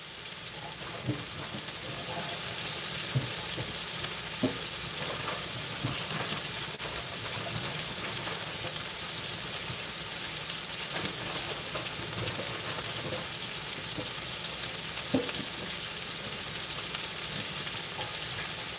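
Squash sizzles steadily in a hot frying pan, a dense continuous crackling hiss with occasional louder pops, and no talking.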